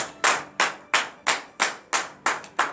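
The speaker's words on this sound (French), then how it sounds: "Donnez de vive acclamation à l'Éternel." Rhythmic clapping at a morning prayer service in a church in Benin: about eight loud, crisp claps in an even, steady beat, each decaying briefly before the next, with no talking between them.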